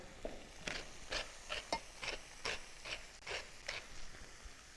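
Olive oil, lime juice and a garlic clove with salt and pepper being whisked together for a melon and feta salad dressing, a quiet series of short, regular scraping clicks of utensil against a bowl, close and steady with no talking.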